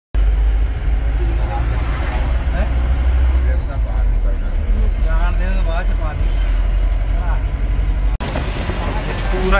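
A car drives along a road near a riverside girder-launching and excavation site, its steady low engine and road rumble continuous throughout, with people talking over it.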